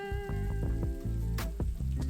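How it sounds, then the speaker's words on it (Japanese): Garlic and ginger hit a pan of caramelized onions and sizzle steadily, with repeated sharp clinks and scrapes from a utensil stirring them. "ニンニクと生姜を加えて青臭さがなくなるまで炒めます"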